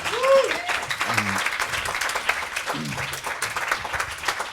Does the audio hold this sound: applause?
yes